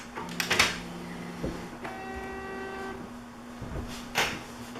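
An Epson F570 dye sublimation printer with an auto sheet feeder pulling in and printing sheets, with close mechanical clicks, a tonal motor whir and paper-feed clunks at a moderate level.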